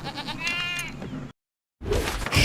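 Sheep creep enemy bleating in Skylanders: Trap Team on Wii U: a wavering, pitched bleat with game noise for over a second, then abrupt silence, then a loud burst of game sound.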